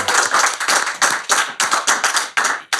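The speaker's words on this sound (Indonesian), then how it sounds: "Tepuk tangan buat Kang Subro dari Banten." Audience clapping for a dangdut singer and Qur'an reciter on a talk show, a dense run of brisk handclaps with rhythmic swells that fades out near the end, with no voices.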